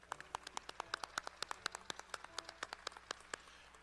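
Sparse applause from a seated audience at a morning service recognition ceremony honoring staff from a finance and administration division, with distinct individual claps in an uneven rhythm, fairly close and moderately loud, no talking.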